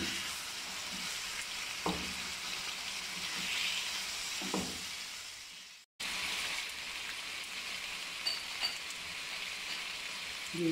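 Chicken karahi fries in a pan with garlic before tomatoes go in, a close, steady crackling sizzle that runs throughout, broken by a couple of soft stirring knocks and a brief cut midway.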